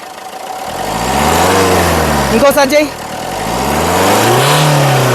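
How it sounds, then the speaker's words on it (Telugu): The 1.6-litre engine of a 2015 Maruti Suzuki S-Cross Alpha revs up and back down in a rising and falling drone, close by, while someone speaks briefly over it. "ఇంజన్ యొక్క నాయిస్ చాలా పర్ఫెక్ట్గా అయితే ఉంది"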